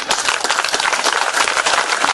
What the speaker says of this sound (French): Est-ce que vous pouvez applaudir très fort pour eux?